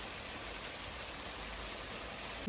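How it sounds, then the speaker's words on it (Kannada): Steady soft hiss of light rain falling, even and continuous with no voices, with a brief bump right at the end. "ಮಳೆ ಬರ್ತಾ ಉಂಟು ಗೈಸ್ ಹನಿ ಮಳೆ ಬರ್ತಾ"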